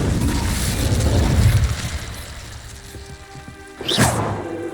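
An Incendio fire spell cast in the Hogwarts Legacy video game, a rumbling whoosh of flame, then a sharp burst near the end followed by a low crackling tail.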